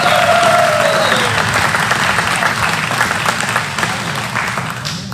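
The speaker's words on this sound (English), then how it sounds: "Round of applause for all the sponsors." A crowd at the Lonestar STOL Competition awards claps loudly and steadily for the event sponsors, a dense wash of applause sustained for the full stretch with a faint voice briefly over it.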